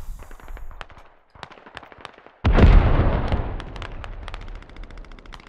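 Incoming artillery shells in the game Squad, with rapid distant gunfire crackling before a sudden loud explosion booms and rumbles out, while scattered shots continue afterward.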